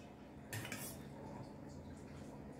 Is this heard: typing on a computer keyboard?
no